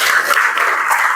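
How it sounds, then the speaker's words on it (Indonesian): A classroom audience claps briefly at a morning Islamic religious education lesson, a short dense burst of hand clapping at close range with no one speaking. "Terima kasih, tepuk tangan."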